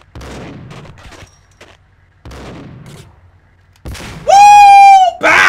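Shotgun blasts in Max Payne come as a few loud, sharp bursts, the last one followed by a piercing ringing tone, with quieter gaps of gameplay noise between them.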